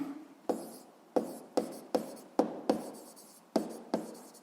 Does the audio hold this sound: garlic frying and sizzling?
no